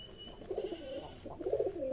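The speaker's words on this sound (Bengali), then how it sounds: "আজকেও চলে এসেছি কবুতরের ঘরে" Pigeons coo inside a pigeon loft, a few soft, rounded burbling calls close by in quick succession, fairly quiet against a faint background hum.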